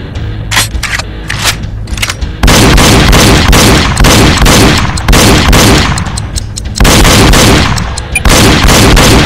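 Rapid bursts of video-game gunshots from Reload on the Nintendo Wii, fired as quick double-taps at targets, loud and continuous through most of the stretch after a brief lighter opening.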